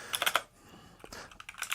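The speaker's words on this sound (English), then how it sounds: "This is typing on the keyboard." Quick bursts of keystrokes clatter on a computer keyboard in two short clusters separated by a brief lull, close and crisp.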